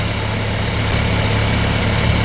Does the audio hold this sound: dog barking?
no